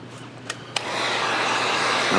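A heat gun warms a flush-mount tint overlay on a Jeep JL/JT, starting with two short clicks before a steady, loud, broadband blowing hiss that runs on without any talk.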